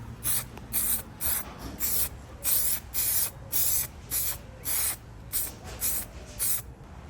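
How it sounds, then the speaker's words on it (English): An aerosol spray can lays a light primer tack coat onto a rebuilt R32 brake caliper outdoors in direct sunlight, heard as a run of short, evenly spaced hissing bursts at close range, with no talking. "I'm gonna go ahead and grab this other one, which I'll give a light spray on."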